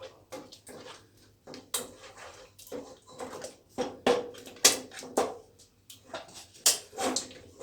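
Spoon stirring spinach and mustard greens saag with jaggery in a cooking pot, irregular wet scraping and soft clanks in short bursts with pauses, fairly faint and close, no talking.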